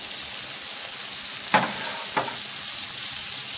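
Whole green chickpeas and potatoes stirred into a masala frying in a pan, with a steady close sizzle throughout and two brief scraping stirs of a spoon against the pan.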